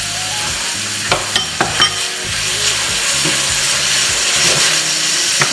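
Roasted peppers hit a hot pan with olives and salt, giving a loud, steady sizzle and fry broken by a few sharp clicks and scrapes of stirring.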